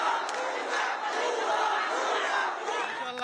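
A dense crowd on the streets of Dhaka cheers and shouts in celebration, a continuous roar of many overlapping voices at close range with no pauses.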